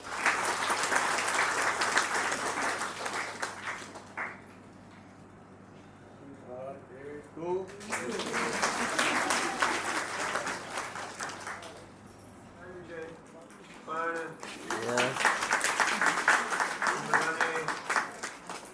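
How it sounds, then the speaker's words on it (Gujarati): Audience applause at an 81st birthday celebration, swelling in several loud bursts of clapping that fade between them, with brief voices heard in the quieter gaps. "આપણે બધા તે વખતે તાળીઓથી એમને વધાવી લઈશું."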